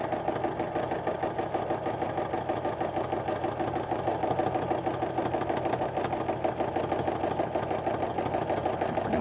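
Sewing machine running continuously during free-motion quilting, a fast, even mechanical chatter of stitching with a steady motor hum, close and unbroken throughout.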